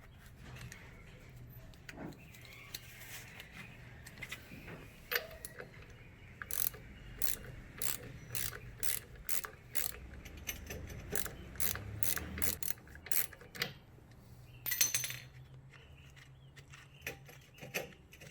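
A ratchet wrench works a 15 mm strut nut off a 4th-gen Camaro control arm, sounding as close, rapid bursts of metallic clicking with brief pauses between strokes and a quiet background.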